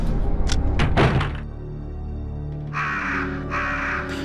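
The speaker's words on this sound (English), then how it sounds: "Why are there crows in here?" Crows caw in the video game Resident Evil 1.5, two loud harsh calls close by, following a burst of thudding, clattering impacts with no voices.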